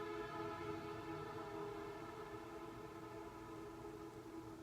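Distant siren wailing outside, a faint, steady rising and sustained tone with layered harmonics, heard alone without talk.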